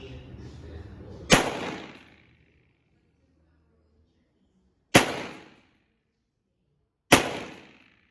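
Three sharp rifle shots at an outdoor mountain firing range, each one a loud close crack with a short echo tail, spaced a few seconds apart, with faint talk before the first shot.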